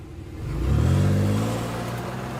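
A vehicle engine catches and runs again after a roadside stop, its low rumble swelling as the car pulls away, steady and fairly close with no talk over it.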